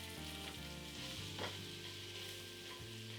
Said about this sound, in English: Add garlic and quickly saute all these.